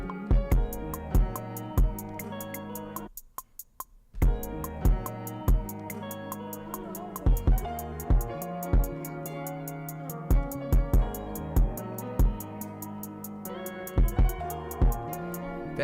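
Beat made on a Maschine Mk3, with crisp rapid hi-hats ticking over punchy kicks and a bass line, a brief drop near the start before the full pattern returns, loud and continuous.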